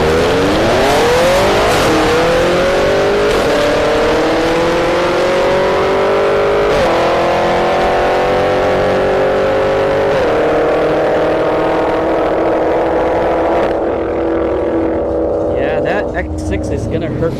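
A BMW X6M at a drag strip accelerates hard, its engine climbing through several gear shifts in repeated rising sweeps, loud and close, before the roar fades away near the end.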